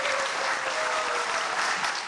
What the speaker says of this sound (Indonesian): kita tepuk tangan dulu untuk Pak Agus.